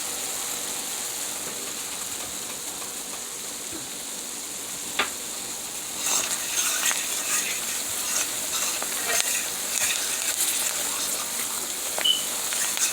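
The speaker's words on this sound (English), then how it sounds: "See that gravy cooking, guys?" Homemade gravy bubbles and sizzles softly in a pan, a faint steady crackle that grows a little busier partway through, with occasional stirring noises and no talking.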